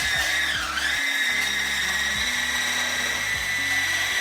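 An electric hand mixer whips cream for a traditional Scottish cranachan, a continuous high motor whine with a short dip in pitch near the start, running steadily and alone throughout.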